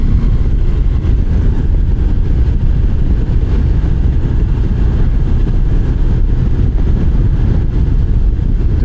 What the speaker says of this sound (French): je veux bien entendre ce bruit du moteur. Ce moteur culbuté à l'ancienne.